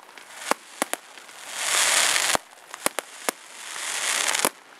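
Fireworks go off on bonfire night at an autograss event, with sharp individual bangs scattered through and two longer hissing, crackling bursts, fairly loud and with no talking.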